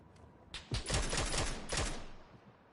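Automatic gunfire in the battle royale game PUBG: rapid bursts of shots rattle out over about a second and a half, then a second short burst follows, fairly close and sharp.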